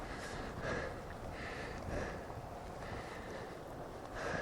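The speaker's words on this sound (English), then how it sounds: "Wind's picked up." Steady broadband wind rushing and buffeting across the microphone while cycling through open Norfolk countryside, loud and continuous with gusty swells and no talk.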